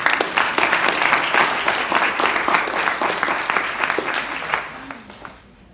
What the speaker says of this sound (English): Round of applause for Albert, please.